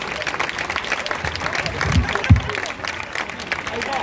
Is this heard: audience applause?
yes